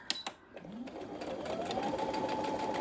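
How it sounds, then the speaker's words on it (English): Close and steady, a sewing machine stitches a zipper pouch seam at a quarter-inch allowance, its motor whirring continuously and rising slightly in pitch after a few faint taps at the start. "we're gonna keep on sewing to the end"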